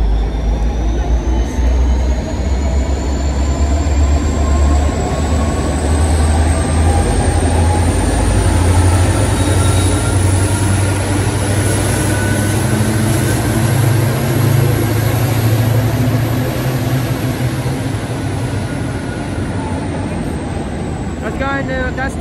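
G532, a locomotive in new livery, hauls a down goods train past a station platform, producing a loud, continuous roaring rumble with a slowly rising whine that holds for over twenty seconds.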